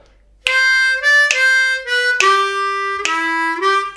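C harmonica playing the second half of a blues shuffle lick: a few sustained reedy notes, mostly even eighths with small pitch steps and crisp breath attacks, close and loud, played solo.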